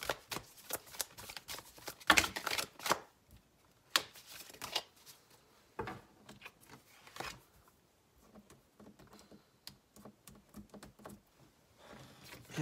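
Tarot cards are drawn and flipped, soft papery slaps and shuffling swishes in irregular bursts, close and quiet, with gaps of near silence between them.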